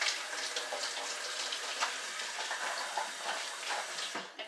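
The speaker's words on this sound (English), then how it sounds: "Let me rinse my hands" Water from a kitchen tap runs steadily as hands are rinsed under it, a continuous close hiss and splash lasting throughout and cutting off at the end, with no talking.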